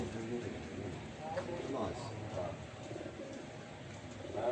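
Soft, low cooing of racing pigeons repeating close by at a pigeon race in Novxanı, mixed with faint background chatter and rustling.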